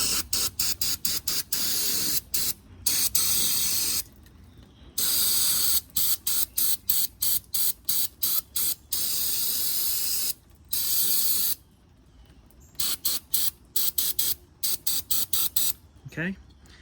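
Carburetor cleaner sprays from an aerosol can onto an old boat carburetor in close, loud, hissing bursts of varied length, some long and some quick, separated by short pauses.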